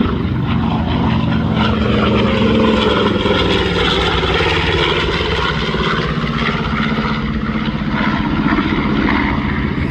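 Twin Wright R-2600 radial engines of a B-25 bomber at an airshow, a loud, continuous propeller drone with a throbbing, slightly wavering pitch held for ten seconds, no talk.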